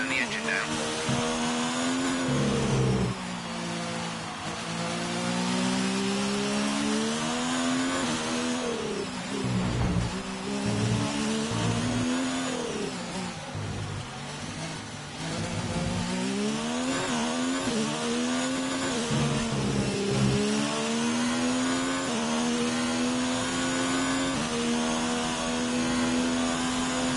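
An F1 race car engine in the F1 2019 racing game on PS5 whines loud and close, its pitch rising and falling through upshifts and downshifts, with brief dips and occasional voice overhead.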